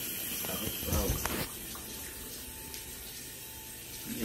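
Kitchen tap water splashing onto bread for homemade dressing: a brief, stronger gush of running water that settles into a softer trickle, close by.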